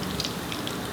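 Four to five full-size red chilies sizzle in hot oil with a steady, dense crackling hiss, close and continuous with faint sputters throughout.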